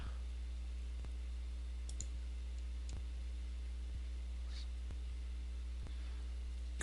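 Faint, evenly spaced computer mouse clicks, about one per second, tick over a steady electrical hum while someone works through a WordPress plugin setup.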